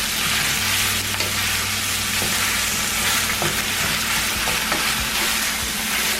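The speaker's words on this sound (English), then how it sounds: "I'm gonna put the meat in." Meat sizzles steadily in a hot pan for Tsebhi Sga, the Eritrean stew, with a continuous loud frying hiss and occasional scrapes of stirring throughout, with no voices.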